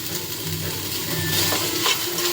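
Food frying in hot oil in a pan gives a steady, close sizzling hiss with a few scraping, clicking stirs mixed in. No one speaks.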